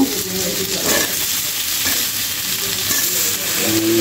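Taro roots (kochur mukhi) going into a hot pan of oil for a vegetarian taro dum, giving a steady, fairly loud sizzling fry with some stirring scrapes throughout, no talk.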